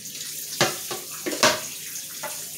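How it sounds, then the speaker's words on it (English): Tap water runs while a red snapper is rinsed for Jamaican brown stew, a soft steady splashing with a few louder bursts as the fish is moved under the stream. "I'm gonna wash him off here now."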